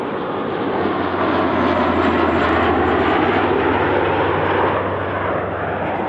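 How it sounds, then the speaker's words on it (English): A Dash 8 turboprop aircraft roars steadily nearby as it comes in, a broad propeller whir layered with a higher turbine whine, loud and sustained throughout. "You can hear the whir of the propeller and the whine of the turbine."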